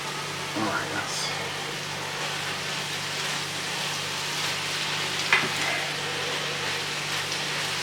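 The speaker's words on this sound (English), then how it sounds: "we're going to add the sausage in one big lump" A big lump of sausage sizzles in a hot pan, a steady close frying hiss running throughout with a couple of soft clicks and brief spatters.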